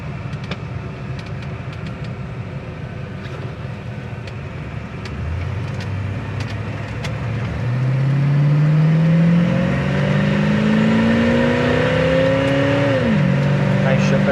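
A 1968 Chevrolet Impala dropped into first gear accelerates from inside the car, the engine note climbing steadily and loudening before a shift drops the pitch, with someone talking over it.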